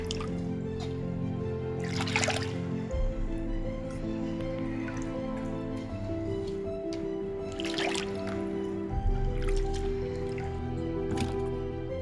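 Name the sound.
rinsing vallarai greens in water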